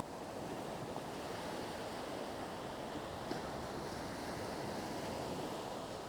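Ocean waves on the shore at Iriomote Island give a continuous, soft, distant wash of surf with a faint breath of wind, steady and unbroken.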